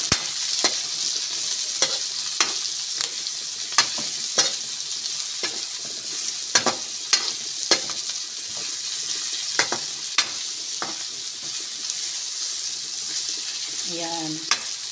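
Beans and sardines fry in a pan while being stirred, a steady sizzle broken by frequent sharp scrapes and taps of the utensil, close and continuous for the whole stretch.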